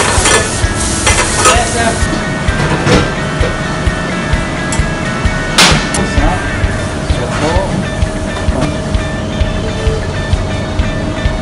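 Nasi goreng stir-fried with shallots and garlic in a Jakarta hotel restaurant kitchen, a steady loud sizzle with scraping stirs and clanks throughout, with faint voices in the background.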